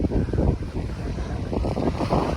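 Wind gusts on a windy day in Croatia, a steady low rumble of buffeting with some microphone wind noise rising and falling throughout, with no voices.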